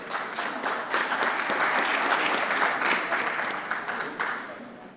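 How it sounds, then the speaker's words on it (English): An audience at an aluminium recycling forum claps for the panelists, a dense, steady round of applause that swells and then gradually fades over a few seconds. "Let us give all the panelists a huge round of applause."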